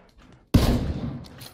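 A single loud burst of gunfire from the PUBG battle royale shooter cracks in sharply after a brief hush and rings out over about a second. Faint game noise sits before it.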